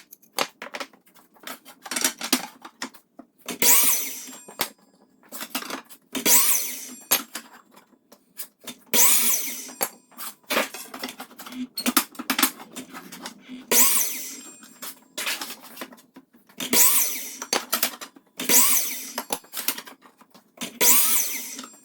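Miter saw cutting new wooden slats for an apple cider press, heard as a series of about nine short, loud bursts of sawing, evenly spaced every couple of seconds, with quieter handling noise between cuts and no talk.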